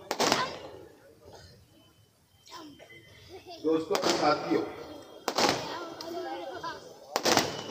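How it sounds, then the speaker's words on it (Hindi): Sharp broadband bangs of firecrackers set off outside a political rally in Maharashtra, several separate cracks spaced a few seconds apart, heard over someone speaking into a microphone and crowd murmur. "पटाखा वगैरह ना फोड़ा जाए, हम बार बार ऐलान करते हैं, उसके बाद भी आप लोग नहीं मान रहे हैं।"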